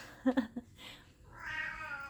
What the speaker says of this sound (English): my cat wants to be outside so bad